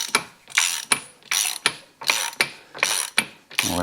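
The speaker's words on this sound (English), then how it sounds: "I like to remove it just with the ratchet." Ratchet wrench clicking repeatedly while loosening hardware on a Porsche GT4 RS magnesium wheel assembly, about nine bursts of close, crisp pawl ratcheting in a steady back-and-forth rhythm, with no talk.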